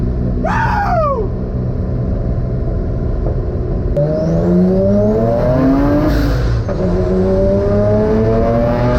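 A 717-horsepower twin-engine MX3 car accelerates hard, its loud engine roar climbing in pitch through repeated gear shifts, with a short high whine near the start and a sustained rumble close by.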